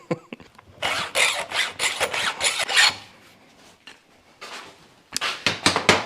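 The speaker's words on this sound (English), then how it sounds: "I've sharpened all the cutters, or at least the best I can with the 2-in-1" Chainsaw chain cutters on a STIHL MS261 CM being sharpened with a 2-in-1 hand file, a series of close, rhythmic rasping strokes in two bursts separated by a short pause.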